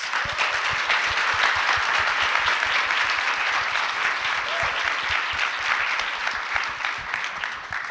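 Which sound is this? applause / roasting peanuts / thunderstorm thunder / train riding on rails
applause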